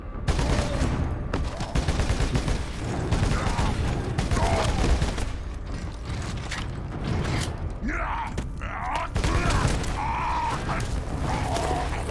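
Bolter gunfire in the video game Warhammer 40,000: Space Marine comes as dense, continuous bursts of heavy shots, loud and up close, mixed with mechanical clanks and game effects throughout.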